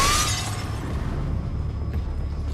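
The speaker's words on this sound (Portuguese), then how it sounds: "alguém quebrou o vidro da janela" Car window glass is smashed in a film scene: a loud shattering crash with a bright burst at the start, followed by a sustained low rumble and debris wash fading slowly.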